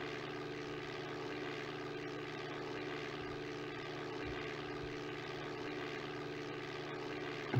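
Steady propeller airplane engine drone from the Flight Simulator game, a continuous even hum with a low rumble, moderately faint and alone throughout.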